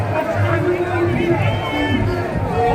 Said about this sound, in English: The girls booing.